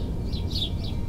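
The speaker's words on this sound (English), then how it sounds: "Y'all can probably hear those birds. They are really active this morning." Wild birds chirp actively outdoors on a morning near a bird feeder, with three quick high tweets over a steady background hiss, faint but clear.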